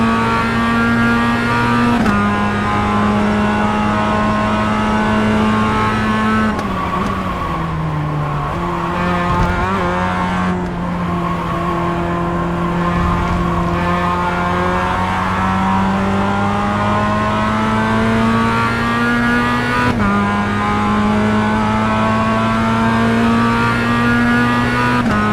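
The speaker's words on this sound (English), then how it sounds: "Jake, there's a car exiting the pits, heads up." Mazda race car engines drone loudly and continuously in a Global Mazda race in the iRacing video game, pitch rising and falling through gear shifts and corners, with occasional tire squeal.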